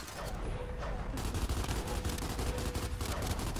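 Rapid sustained gunfire in the Gears 5 video game, dense loud bursts of automatic shots with overlapping blasts, continuing without pause.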